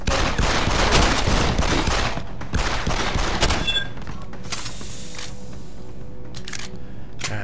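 Rapid bursts of gunfire from the video game Deus Ex: Human Revolution, loud and dense for about four seconds, then sparser shots and clatter fading into a lower game background.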